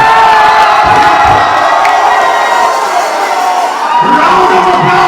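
A large crowd at a live music stage show cheers and shouts loudly and continuously, a dense roar of voices with whoops rising and falling throughout.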